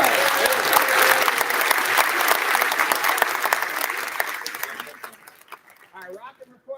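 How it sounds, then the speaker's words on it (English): An audience at a school arts celebration applauds a recorder ensemble, dense sustained clapping that fills the room and then thins out into a few scattered claps at the end. "Can we have a round of applause for the Rockin' Recorder All-Stars?"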